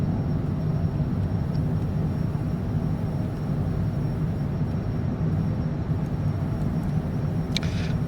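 Sustained, steady roar of a fixed-wing airliner climbing out after takeoff from Palm Springs, heard from inside the cabin as a dense, even engine drone with no talk, holding constant throughout.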